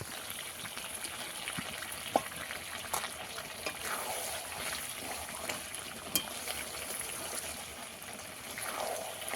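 Potatoes go into a pan of spicy chicken pieces and liver frying for a dry-style curry, giving a steady close hiss and sizzle with a few soft clacks and bumps throughout.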